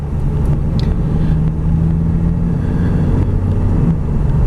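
A 2004 Toyota Tacoma PreRunner rolls over potholed, uneven pavement, with a steady low road rumble and engine drone from inside the cabin and faint thumps from the bumps.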